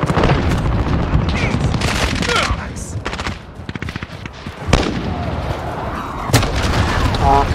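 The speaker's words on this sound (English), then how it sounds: "Enemy cruise missile incoming" A cruise missile explodes in the Call of Duty video game, set among sharp bursts of gunfire and booms that stay loud and dense throughout, with a voice talking over the action.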